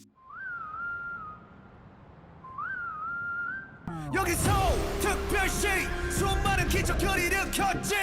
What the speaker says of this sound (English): So we start with a whistle to grab our attention.